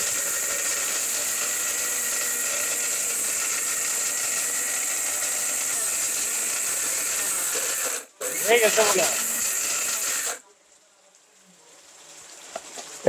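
Turmeric ground in an electric curry cooker grinding machine makes a loud, steady whirring hiss for about ten seconds, breaks briefly, resumes, then cuts off to near silence.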